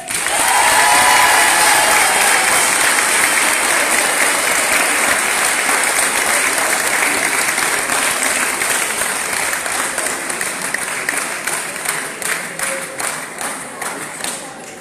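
Loud, thunderous applause from an audience at a debate and eloquence event, dense clapping that holds strong before thinning slightly toward the end.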